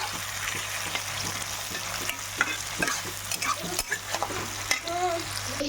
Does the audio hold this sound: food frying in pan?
yes